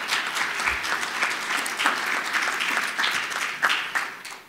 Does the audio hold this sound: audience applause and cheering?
yes